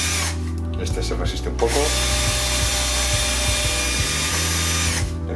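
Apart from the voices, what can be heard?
drill bit drilling out washing machine door rivets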